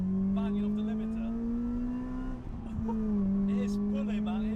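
Supercharged 350 bhp Honda Accord engine bouncing off the rev limiter, a loud sustained buzzing drone with a supercharger whine, briefly dipping mid-clip before climbing again, with a voice talking over it.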